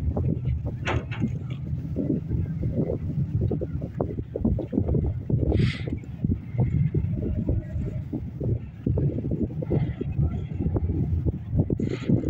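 A boat comes bow first against a pier in Izmit, with a steady rumbling engine and water noise close by, wind buffeting the microphone and people talking faintly.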